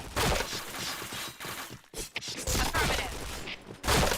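Rapid bursts of gunfire from the Point Blank shooter game, loud and dense through most of the stretch, broken by a short gap before heavier volleys resume.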